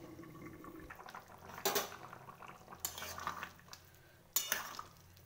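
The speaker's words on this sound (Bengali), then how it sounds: "এবার আমি ঢাকনাটা খুলে দেব।" A pot lid clanks and scrapes against a pot of simmering potato and cauliflower curry on a gas stove, in three sharp metallic bursts over a quiet background of low bubbling. Close and clear, with no voices.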